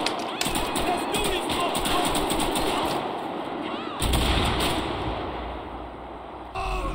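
Gunfire in GTA 5, a burst of rapid shots up front followed by scattered bursts, loud and close, with a voice talking over the shooting.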